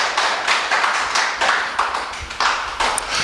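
A church congregation at a fire crusade claps for Jesus Christ in a rhythmic, pulsing pattern of hands, close and moderately loud with regular bursts and no voices over it.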